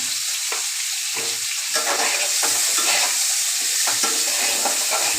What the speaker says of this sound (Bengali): এবার এই তেলের মধ্যে ফুলকপিটাও ভেজে নেব।